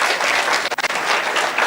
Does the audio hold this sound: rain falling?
no